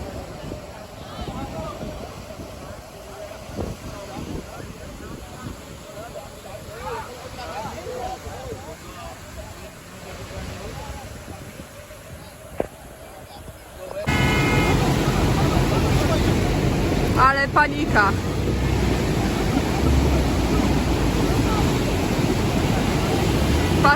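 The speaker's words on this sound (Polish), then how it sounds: "Obserwujcie, jak to Wadi wypełnia się wodą." Floodwater rushes through a wadi in Fujairah, UAE, during a July 2022 flood: a broad, steady roar of moving water that swells abruptly louder midway and stays dense, with voices talking over it throughout.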